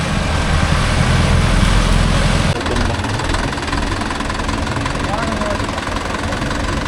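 A Mahindra Yuvo Tech Plus 585 4WD tractor runs a 42-blade Gomathi rotavator through a field, its diesel engine a loud, steady close-up drone with churning rumble that drops slightly in pitch partway through, continuous for the whole stretch.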